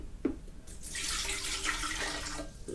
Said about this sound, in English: Pour the water in there.